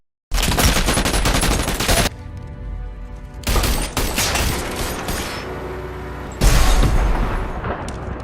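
Loud bursts of rapid gunfire come in three long volleys, separated by quieter stretches of ringing, echoing noise.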